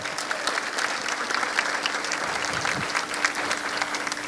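Steady applause from an audience at a graduation ceremony, a dense, even patter of many hands clapping throughout with no talking over it.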